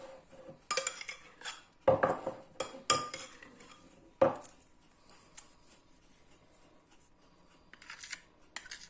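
A metal spoon scrapes the leftovers from a pot during home bread making, giving sparse, sharp clinks and scrapes spread across the clip with quiet gaps between them, close by and fairly faint, with no talk.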